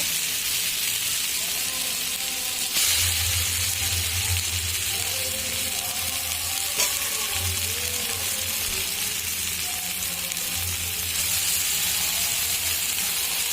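Meat dropped into a hot pan of spice paste sizzles steadily and loudly, a dense continuous frying hiss that swells as the meat goes in and holds with faint stirring scrapes, close by.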